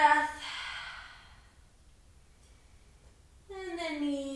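A full breath drawn and released during a floor Pilates exercise, a soft breathy exhale fading into near silence, then another voiced breath rising at the end, close and intimate with no talk.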